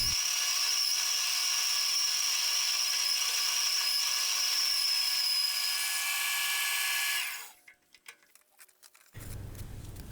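Metal lathe taking a heavy cut with a boring bar on a hex nut being turned into a ring, a steady high whine for about seven seconds that then stops, leaving faint clicks and a low hum.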